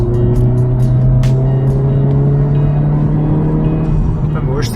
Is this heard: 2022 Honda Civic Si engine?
yes